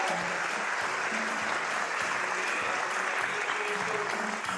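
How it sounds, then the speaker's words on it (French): An audience bursts into sustained applause for Samira, a woman who has stuttered since childhood, dense and even clapping that fills the room steadily for several seconds without any voices. "Je vous demande de l'applaudir très fort."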